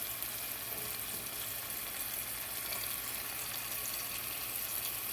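Pork browns in a frying pan with onions and garlic, a soft, even sizzle with faint crackles running continuously and no talk.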